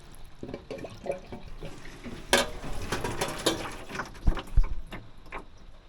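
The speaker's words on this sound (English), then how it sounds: "Running water." A sink tap in a restored 2002 A-Liner camper turns on and runs: water splashes and gurgles into the basin amid clicks and clunks from the fixture, fairly close and uneven, with a couple of sharp knocks near the end.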